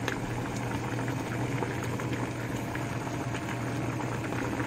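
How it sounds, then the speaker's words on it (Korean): Pork kimchi stew seasoned with salted shrimp boils in a pot, giving a steady, close bubbling and simmering that runs without a break. "새우젓 그래갖고 끓여주세요 보글보글 바글바글"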